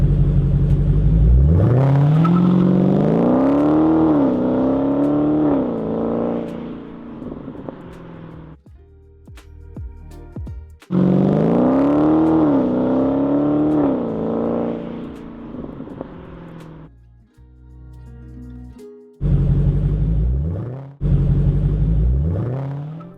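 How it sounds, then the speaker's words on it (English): Cars pull in and out of a Target parking lot, engines revving up and settling in two long, loud passes, with short gaps of quieter rumble and clicks and a final brief burst of engine noise. "There's cars going in and out."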